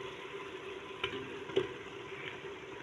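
Potatoes frying in hot oil together with fresh beans in a home kitchen, a faint steady sizzle with a couple of soft stirring clinks, no voices.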